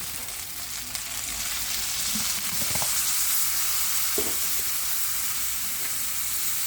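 Chicken and egg adobo sizzles loudly in a pan after soy sauce is added, giving a steady close frying hiss broken by a few stirring scrapes.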